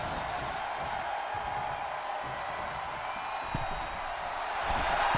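Wrestling arena crowd in WWE 2K24 gives off a steady, dense roar of cheering and whooping that holds level throughout, with a faint swell near the end.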